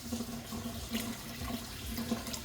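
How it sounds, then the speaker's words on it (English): Tap water runs into a pot holding chicken pieces, adding enough to cover them for Puerto Rican rice and chicken in sauce, a steady gentle splash and pour heard alone at low level. "I'm gonna put a little bit more water"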